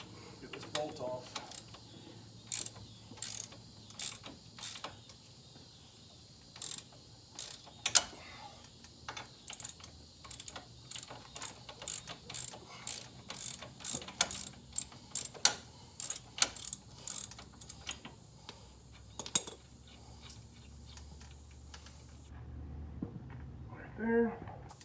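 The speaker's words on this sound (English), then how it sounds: "Get this bolt off." Wrench working a bolt loose and off, with repeated sharp ratcheting clicks and metallic taps in short bursts, close and moderately quiet against a faint background hum.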